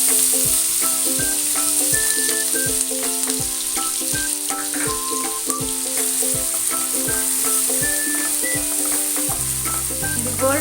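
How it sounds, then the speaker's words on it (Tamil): Chopped onions fry in well-heated oil for a Tamil-style paneer sandwich filling, giving a steady close sizzle with occasional stirring, mixed under a continuous tonal music bed with no talking. "இப்போ நறுக்கி வச்ச வெங்காயம்"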